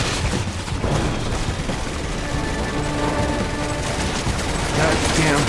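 Dense, loud gunfire from the video game Resident Evil 6 rattles in continuous bursts, with overlapping shots and booms filling the whole stretch.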